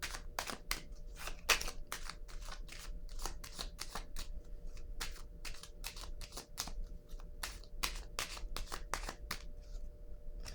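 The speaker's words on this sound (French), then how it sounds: "Je vais déposer une carte ici aussi." A tarot card is laid down on a table with a soft slap, among a rapid run of crisp, dry card clicks and shuffling snaps that repeat steadily and close up, with no voices.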